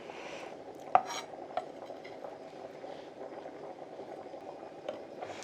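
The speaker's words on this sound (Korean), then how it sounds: "밥이 이렇게 끓어줘야지." Steady bubbling and simmering of rice boiling in a cast-iron cauldron, a continuous low wash of boiling with a couple of sharp metallic clinks near the start.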